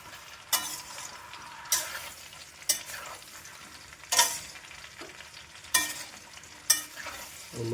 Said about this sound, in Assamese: বগৰীখিনি তেলত দি আছে